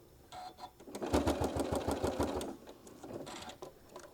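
A domestic sewing machine stitches the fabric of a small travel case for a mini iron, its needle hammering out a rapid, even mechanical clatter in one close run, with softer starts and stops on either side.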